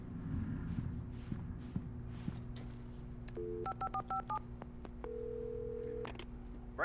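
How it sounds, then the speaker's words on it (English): A string of electronic touch-tone beeps dials a phone number in the video game Alan Wake Remastered, followed by a steady ringing tone, over a low background hum and faint footsteps. "So I'm guessing we're going to make this phone call and then wake up."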